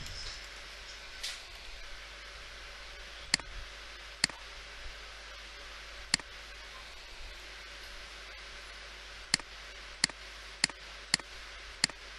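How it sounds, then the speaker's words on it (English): Scattered keyboard clicks while someone types a certificate configuration, sharp isolated taps spaced irregularly and then a quicker run of several near the end, faint over steady background hiss and hum, with no voices. "I'm just typing"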